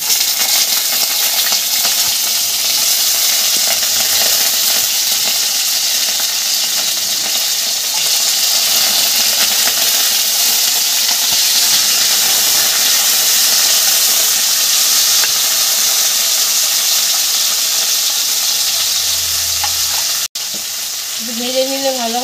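Potatoes fry in an iron wok for a mixed vegetable curry, a loud continuous sizzle and hiss with occasional stirring, steady throughout, and a brief voice near the end.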